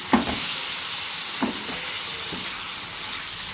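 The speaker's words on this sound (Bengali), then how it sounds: "এবারে আমি সর্ষের তেল মাখানো আর নুন হলুদ মাখানো চিংড়িগুলো মধ্যে দিয়ে দেবো" Prawns coated in mustard oil, salt and turmeric fry in a masala, giving a steady close sizzle with a few brief scrapes from stirring.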